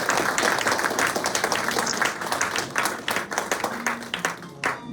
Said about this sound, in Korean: 박수 한번 셋